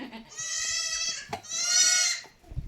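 A Beetal buck goat lets out two long, loud bleats close by, with a brief pause between them.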